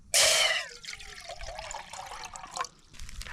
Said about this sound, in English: On with the billy. Put in some water.